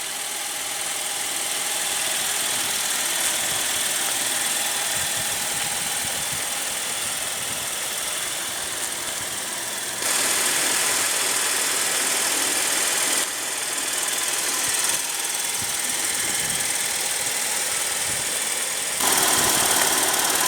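A 2015 Buick Enclave's 3.6-liter V6 idles with a steady, close mechanical hum and light ticking. The level shifts slightly a few times, and no one speaks.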